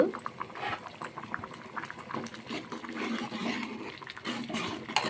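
Cooked dal (lentils) bubbling in an open pot, a soft, continuous gurgle of thick liquid with irregular small pops, close and fairly quiet, with no talk.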